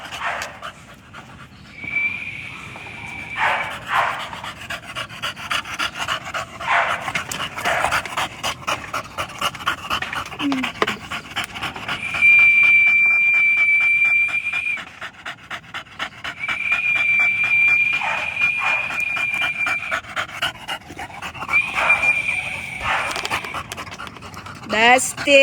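A dog named Dustin pants heavily and rapidly, breaths close and loud in steady bursts, with a high whistle-like tone sounding over parts of it and a few faint whimpers.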